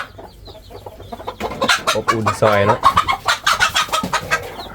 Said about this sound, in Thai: แต่ละหังนี่มันมีตัวไก่กำลังฟักไข่อยู่ กำลังไข่อยู่